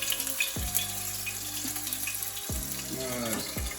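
Trout pieces frying in hot oil, with a soft, continuous sizzle and spatter that stays fairly quiet, broken by a few brief tonal clinks.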